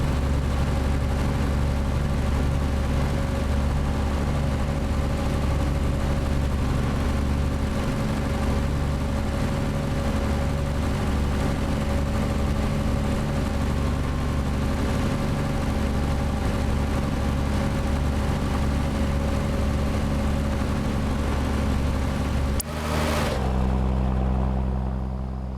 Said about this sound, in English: this engine sounds good outside this truck, not so good inside